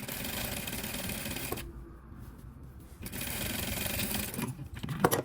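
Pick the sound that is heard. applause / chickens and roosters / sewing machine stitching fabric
sewing machine stitching fabric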